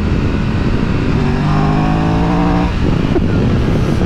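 A 2022 Triumph Tiger 1200 Rally Explorer motorcycle ridden hard on a B-road, the engine roaring loudly and rising in pitch before a quick shift, with wind rush throughout.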